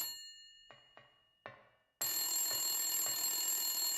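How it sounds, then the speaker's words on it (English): Telephone ringing in Silent Hill 1, a few sharp metallic bell strikes with ringing tails in near silence, followed by a loud, continuous sustained ring. "The phone's ringing."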